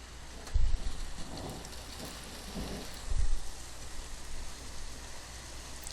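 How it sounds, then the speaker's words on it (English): Rain falls steadily under a cloudy Arctic sky, a dense even hiss with a couple of low rumbling thuds that could be distant thunder. "Oh, we've got rain."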